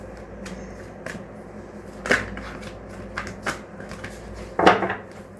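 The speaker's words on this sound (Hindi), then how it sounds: "यहाँ पर हम शफल करना स्टार्ट करते हैं" Tarot cards are shuffled by hand in short riffling bursts and soft slaps, a few sharper flicks standing out at irregular intervals over a quiet room.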